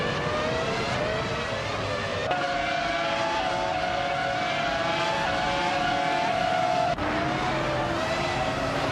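Race cars in a racing video game roar along a track with tight corners and long straights, steady engine whine rising and shifting in pitch as cars overtake, loud and continuous with brief tire squeal.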